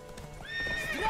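Horse hooves clip-clopping on a bridge in the video game The Witcher 3, ending in a sharp whinny, with no talk over it.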